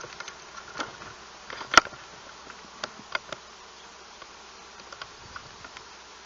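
Honeybees buzz steadily in an opened hive at an apiary in early season, a dense, continuous hum with many drones present, punctuated by a few sharp clicks and taps close by.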